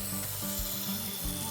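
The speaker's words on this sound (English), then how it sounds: "After an hour of grinding away, the edges were looking so much better." A lawn mower blade is ground into a knife edge with a steady, close rasping scrape and a low mechanical drone. The strokes come in repeated passes.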